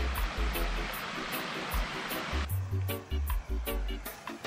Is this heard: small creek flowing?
yes